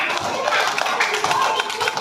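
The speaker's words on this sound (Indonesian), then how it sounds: "tepuk tangan buat teman-teman" A short burst of scattered hand clapping from a small group of students after a group presentation, fairly close, with a voice overlapping the applause.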